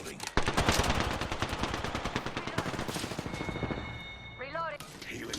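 Rapid gunfire in Apex Legends, including Triple Take sniper rifle shots, a dense rattling volley of close shots for several seconds, tapering into a warbling electronic effect near the end.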